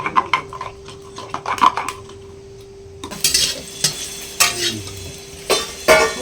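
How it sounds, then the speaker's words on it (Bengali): Beans frying in oil in a pan and stirred with a utensil, a sizzle broken by sharp scraping clatters against the pan, close, with a louder, livelier frying sound in the second half. "এরকম লাল করে ভেজে নিয়েছি, তুলে নেব।"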